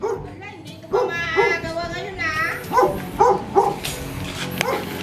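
A nearby dog yips and whines in short, excited bursts while people talk over it.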